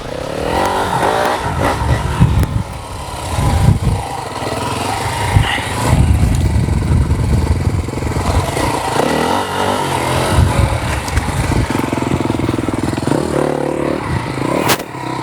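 An enduro motorcycle charging up a dirt hill, its engine roaring loud and continuous with full throttle at the bottom, then easing off and revving in bursts as it climbs, with clattering from the terrain and no voices.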